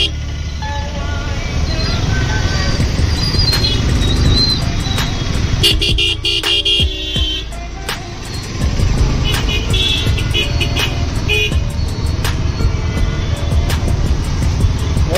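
Dense road traffic moving again after a jam, with cars and buses rumbling close by and many short horn toots and honks scattered throughout. Faint voices come and go in the background.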